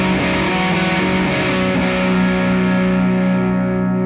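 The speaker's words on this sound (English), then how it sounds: "And you can get tons of different timbres, unique different tones, from mild to aggressive." Electric guitar runs through a Fulltone PlimSoul distortion pedal with a sustained, heavily driven chord ringing out loud and close, with a few picked attacks at the start before it holds steady.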